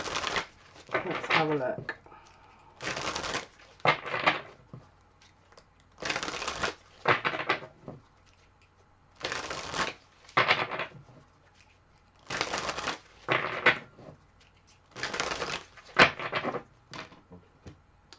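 Tarot cards are riffled and shuffled in repeated short bursts, each flurry of crisp card noise separated by quiet gaps, with a voice speaking briefly between them.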